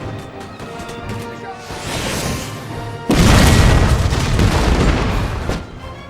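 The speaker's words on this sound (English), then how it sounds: "Keep up the pressure by firing your cannons" Video-game cannons firing at enemy units, heavy booms and rumbling blasts building into a louder sustained barrage, with faint voice underneath.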